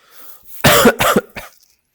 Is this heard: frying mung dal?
no